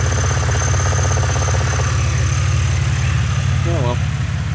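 A car engine idles steadily and loud throughout, a low continuous rumble with a faint ticking somewhere in it, while a person talks over it.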